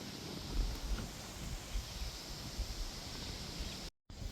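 Steady wind rushes over an open, cloudy campsite above a waterfall, a continuous outdoor roar with light rustling and low buffeting gusts, ending in a brief cutout.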